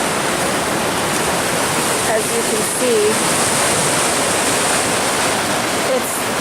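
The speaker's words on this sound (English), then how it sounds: "But this river crossing is just too raging, and there's no place to cross really" The North Fork of the Middle Fork Willamette River rushes past in a loud, dense, unbroken roar of heavy whitewater close by, while a person speaks briefly over it.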